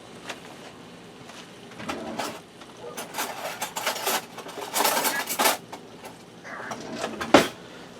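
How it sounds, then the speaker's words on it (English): Green chilies stirred into a taco tater tot casserole mixture, heard as soft repeated scraping and clinking of a utensil against a dish, building in bursts with one sharper knock near the end. "And I'm just going to give that a stir to combine it."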